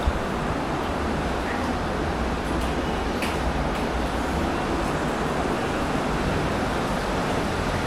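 Deep floodwater from a severe flood, heard as a loud, steady broadband rushing roar that holds constant throughout.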